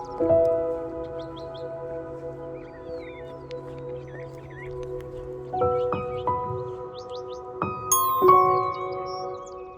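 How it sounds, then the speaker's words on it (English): A brown thrasher, a mockingbird relative, sings a series of varied whistled and chirping phrases on a trail through open alvar, clear but moderately distant, with a quiet outdoor background between phrases. "There's a brown thrasher behind me."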